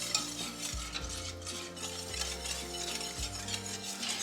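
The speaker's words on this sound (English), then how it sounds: "And we're gonna whisk this all around." A whisk swishes steadily through a warm glaze of apple juice, sugar and Dijon mustard in a pan. The sound is a soft, continuous rustle with faint clinks against the metal, quiet and close, with no talking.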